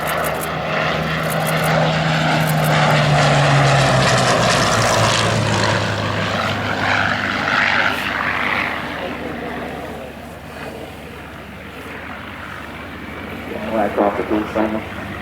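Hawker Sea Hurricane Mk.1b fighter flying at an Old Warden air display, its propeller engine droning loudly and then fading as it passes. A commentator talks over the aircraft noise.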